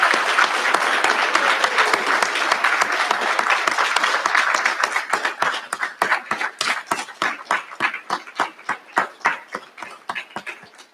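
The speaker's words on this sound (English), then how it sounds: "I'm going to ask you to give a round of applause to your faculty for the many" Graduates at a recognition ceremony give their faculty a loud, dense round of applause that thins out into scattered, separate claps toward the end.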